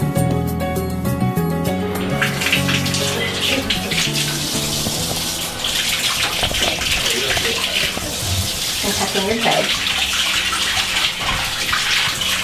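Water gushes steadily from a tap into a bathtub during a bath photo shoot, a loud continuous rush with brief speech over it.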